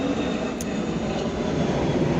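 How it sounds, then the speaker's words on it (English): Airplanes pass overhead outdoors, producing a steady, broad engine roar that stays fairly loud and unchanging throughout, with no speech. "got loud planes"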